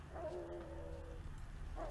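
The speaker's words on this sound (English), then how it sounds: "Dogs?" Dogs in The Witcher 3 give a short bark-whimper, then another brief yelp about a second and a half later, soft over a steady low game background hum.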